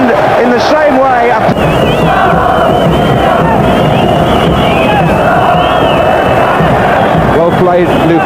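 A large stadium crowd at a 1990 World Cup match roars and chants in a dense, continuous wall of noise, loud and close throughout, with cheering swells and no clear individual voices.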